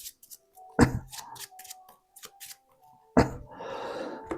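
A Marvel Champions encounter deck with only a few cards left being shuffled by hand, two short crisp bursts of card riffling with light handling clicks between them.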